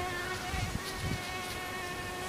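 Mosquitoes whine in a thin, continuous high-pitched buzz, faint and steady, with a few soft low thumps underneath and no talking.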